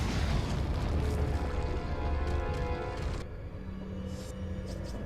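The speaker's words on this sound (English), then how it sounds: "but there's a grenade throw" A grenade explodes in Resident Evil 4, a loud, rumbling blast that fills the first few seconds before dropping to quieter background noise.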